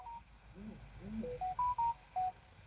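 A mobile phone gives an alert as a short run of clean electronic beeps stepping through a few pitches, fairly quiet, following a brief low murmur of voice.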